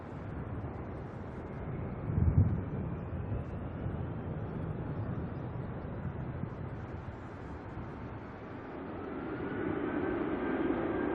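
Air Tahiti airliner turning in flight near Auckland Airport, a steady broadband jet roar heard from the ground, fairly loud and continuous with wind buffeting, swelling slightly toward the end.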